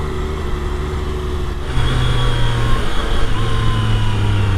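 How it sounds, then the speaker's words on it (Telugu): Two Triumph Street Triple RS motorcycles idle together, then rev up midway into a louder, deeper, sustained drone with a steady pitch. "రెండు బైక్స్ సేమ్ సౌండ్ కదా"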